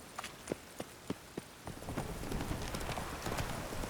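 Roach the horse's hooves clip-clop in The Witcher 3 game, first as evenly spaced single strikes, then quickening into a dense, continuous patter of hoofbeats close by, with a stormy wash building underneath.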